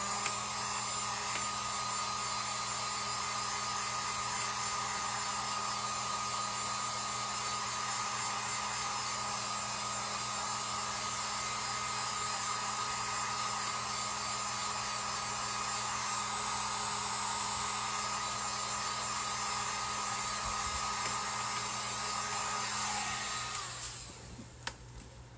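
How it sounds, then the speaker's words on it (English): A heat gun blows with a steady, even whirring hiss while drying a craft project, running alone and unbroken for over twenty seconds before cutting off abruptly. "what I'm going to do is take my heat gun and dry this"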